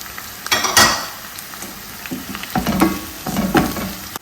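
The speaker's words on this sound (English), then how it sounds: "Let's go ahead and add our carrots." Carrots go into a hot frying pan for corned beef egg sauce and sizzle loudly in bursts. A few clinks of a utensil against the pan sound between the surges of frying.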